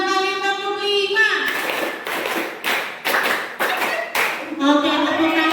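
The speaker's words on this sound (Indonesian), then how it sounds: "2 kali tepuk 5." Several people clap twice through a counted clap-five pattern during an Indonesian group session on positive school culture. The run of crisp, fairly loud claps comes between stretches of a leader's speech.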